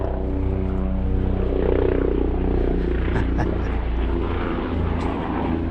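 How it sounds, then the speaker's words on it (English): A helicopter drones steadily overhead along the Caloosahatchee creeks trails, its low rotor thrum filling the air continuously throughout, with a voice murmuring faintly underneath. "Actually, that's a helicopter."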